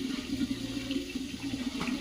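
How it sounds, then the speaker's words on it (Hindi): Tap water runs steadily as rice is washed in a kitchen sink, a continuous close splashing flow with no one speaking over it. "ब्लॉगर भाई चावल धो रहा है"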